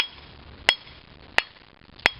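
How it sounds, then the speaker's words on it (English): Three sharp metallic sledgehammer strikes ring out evenly spaced, knocking a mid-shaft bearing out of a Toyota Camry motor mount during passenger-side axle removal, close and loud against quiet background. "We'll just take a few hits, a little sister sledge,"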